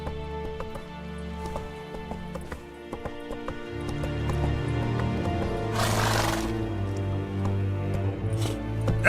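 Hooves of Geralt's horse Roach in The Witcher 3 clip-clop steadily and close, with a short whinny, over layered game music and ambience; a brief broadband burst rises midway.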